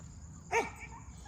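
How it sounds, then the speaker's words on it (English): A single short bark from a black dog far off, faint and distant over a low steady background hum. "Oh no, is that one of my dogs?"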